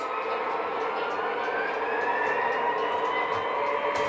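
A model railroad locomotive pulls forward on the layout to couple with a caboose, giving a steady, even mechanical rumble and whir that holds at one level throughout, with no distinct coupling clunk standing out.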